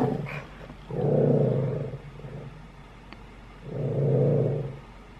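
A dog growls indoors in two long, low, rumbling bursts separated by a short quiet pause, close and fairly loud.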